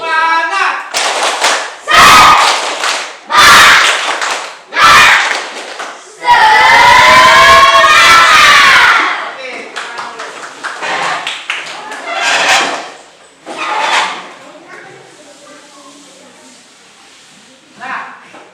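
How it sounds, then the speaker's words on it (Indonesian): A classroom of students performs a standing clapping chant led by a teacher, with rhythmic group claps in bursts between loud chanted voices, close and energetic, then quieter talk follows. "Tepuk semangat."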